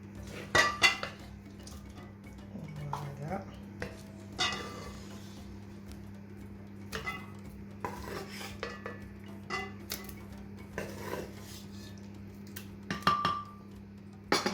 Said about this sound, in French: je vais récupérer tout mon contenu que je vais venir placer dans le mixeur